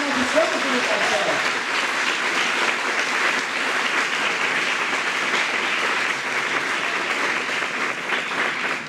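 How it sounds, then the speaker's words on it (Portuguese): A church congregation applauding loudly for the Lord during a youth service, a thick continuous roar of clapping with a few voices mixed in at the start, close and loud throughout. "Então vamos aplaudir bem forte o Senhor"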